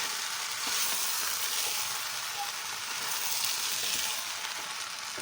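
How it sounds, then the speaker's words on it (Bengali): Basmati rice frying in oil with spiced potatoes for egg pulao: a faint, even, hissing sizzle that holds steady throughout, with no distinct strokes. "চালটাকে দিয়ে মশলা আলুর সঙ্গে বেশ ভালো করে ভেজে নিতে হবে"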